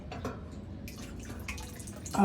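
Water dripping and trickling through a float valve into a 1,000-liter storage tank, a soft irregular patter of drips close by, ending in a brief louder splash.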